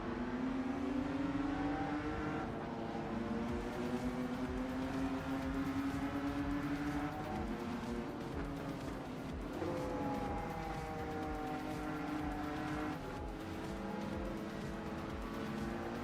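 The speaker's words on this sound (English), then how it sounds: "the M2 sounds kind of lethargic, anemic" A BMW M2 racing engine in the Rennsport sim racing game drones steadily and somewhat subdued, its pitch climbing and dropping back at several gear shifts over a continuous run.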